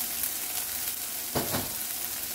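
Plantain and eggs frying in a pan sizzle steadily while a spoon stirs through them, with a brief louder scrape and stir of the pan midway.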